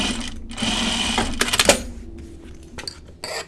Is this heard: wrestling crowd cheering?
no